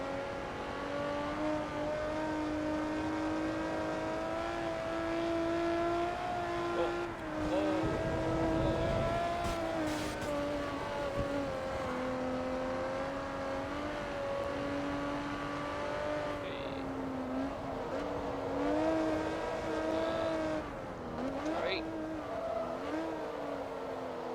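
Race car engine in the Forza Motorsport 2 video game, a steady loud revving drone with shifting pitch through gear changes and brief throttle lifts, continuous and close for the whole stretch.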